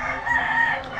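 A rooster crowing at a game fowl farm, a single loud, close, drawn-out call heard on its own.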